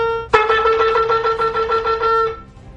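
A shofar, a ram's horn, blows a teruah: a held note breaks into a fast run of short pulsing notes in rapid succession. The sound is loud and close, and no one speaks over it.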